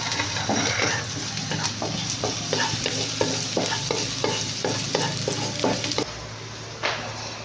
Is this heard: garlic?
yes